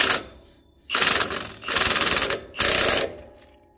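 Milwaukee impact wrench tightening a shock mount on a 2022 Ram 2500 with a 6.7 Cummins, firing three loud rattling bursts, the second the longest, separated by short pauses.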